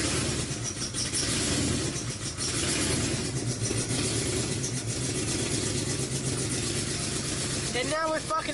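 A car with a suspected injector or vacuum leak idling, a steady mid-pitched engine hum running continuously and fairly loud, with a brief higher rising whine near the end.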